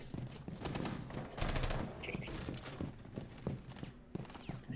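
Gunfire in the tactical shooter Rainbow Six Siege: a burst of several quick shots and scattered softer impacts and footsteps, fairly faint and irregular over a few seconds.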